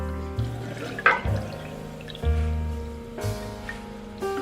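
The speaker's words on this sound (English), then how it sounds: "fill it with warm water," Warm water poured into a ceramic bowl during shaving lather preparation, a series of short splashing and trickling bursts close by with brief pauses between them.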